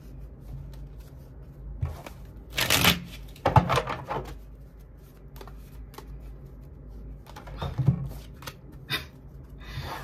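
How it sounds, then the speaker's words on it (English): Tarot cards shuffled by hand in several separate bursts of riffling and flicking, close and fairly quiet, with short pauses between and no talking over them. "I'm over here trying to shuffle up these cards here."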